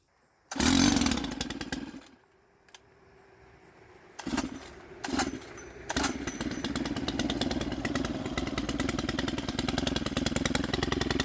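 Gas pole saw engine pulled to a loud start, dropping briefly to a low idle, then revving in short bursts before settling into a steady, buzzing high run, heard close and alone.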